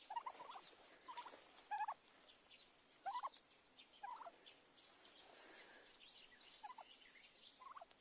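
Broad-breasted white turkeys gobble in short repeated bursts, several calls spread across the stretch, fairly close with quiet gaps between.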